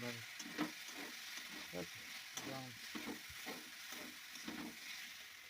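Lata fish cooking with lafa greens in a pan, a soft continuous sizzle with repeated stirring scrapes at an irregular rhythm, faint and close, while a voice murmurs quietly underneath.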